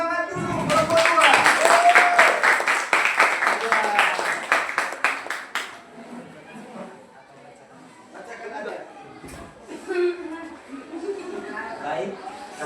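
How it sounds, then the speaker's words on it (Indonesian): Classroom of high school students applauding a presenting group, a lively burst of many hands clapping with chatter for several seconds, then fading as students begin talking. "Tepuk tangan dulu kelompok 2."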